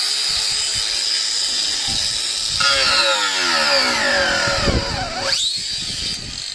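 Two angle grinders, a Parkside and an AEG fitted with large discs, run in a side-by-side test: a loud, steady high whine that dips sharply in pitch as one bogs down under load, then recovers, with gritty cutting noise throughout.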